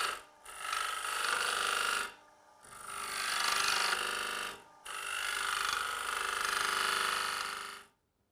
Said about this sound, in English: with the detail point cutter, we can produce our dovetailed foot to hold onto the jaws of the chuck